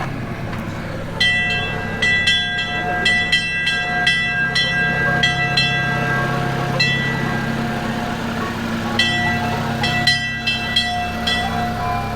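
A railroad train rolls through the Calico ghost town area in the Mojave desert, with a steady low rumble of the ride and repeated bright metallic clanks and rings over it, heard close and fairly loud.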